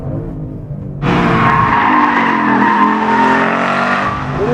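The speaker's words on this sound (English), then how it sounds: "Love the exhaust note." A Ford Mustang Boss 302 at full throttle on the Laguna Seca track, its exhaust bursting in loud and close after a second of quieter engine noise, then holding a sustained, harsh, steady roar, with no talking.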